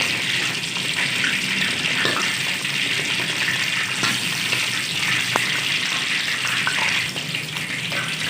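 Chicken tikka pieces fry in hot oil in a pan for an Irani-style tikka, a steady, loud, dense sizzle that carries on unbroken throughout.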